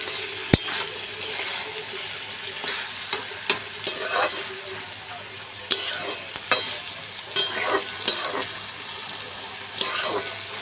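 Lau shak chochori with fish oil frying in a pan, a steady sizzle broken by repeated sharp scrapes and knocks of a spatula stirring at an irregular pace, close and without talk.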